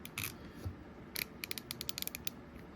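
Stubby ratcheting bit driver being worked back and forth by hand, a quiet close series of crisp ratchet clicks, a few sparse ones and then a quicker rhythmic run.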